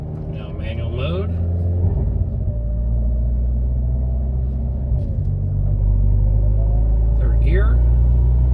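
A Hyundai Elantra N with a turbo upgrade pulls hard on a data logging run, its loud, steady engine drone swelling louder in the last few seconds, with faint voices in the cabin.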